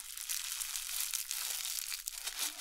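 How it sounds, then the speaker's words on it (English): Scissors slicing through plastic packaging while unboxing an AM radio kit, with a steady crinkling, crunching rustle that carries on for a couple of seconds up close. "Get my scissors out here. And we're just going to cut this."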